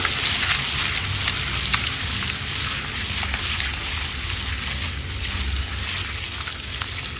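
Masala with turmeric and Kashmiri chili powder frying in oil for a dhaba-style egg curry, a loud, steady sizzle with fine crackling spread evenly across the whole stretch.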